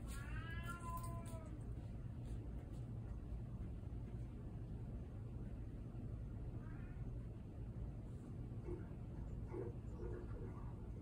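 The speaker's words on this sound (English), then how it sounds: "My cat is calling." A cat meows several times, its drawn-out calls rising over a constant low hum in a room, loud at the start and then fainter and more sporadic.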